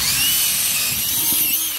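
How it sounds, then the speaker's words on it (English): A power drill whirs steadily, enlarging the screw holes in a light fixture base, a continuous high-pitched motor whine held for nearly two seconds before cutting off at the end. "So you make the hole bigger with the drill"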